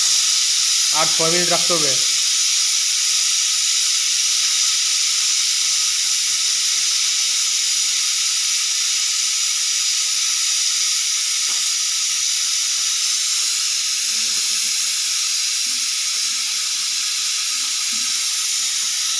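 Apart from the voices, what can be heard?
pressure cooker whistle and steam while cooking biriyani meat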